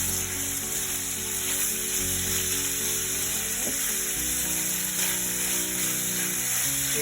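Ingredients for a Thai-style soup fry in a pot on the stove while being stirred, making a steady close sizzle with a low hum under it and a short scraping clatter from the spoon midway.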